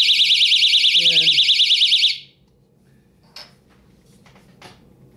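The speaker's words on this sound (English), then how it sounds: "gives off an audible alarm" A cheap tip-up fishing alarm bought on eBay gives a loud, rapidly warbling electronic tone for about two seconds, then cuts off, followed by a few faint handling clicks.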